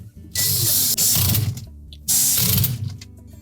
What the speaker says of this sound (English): we suggest you alternate the installation of these screws to make sure we don't bind that top or twist it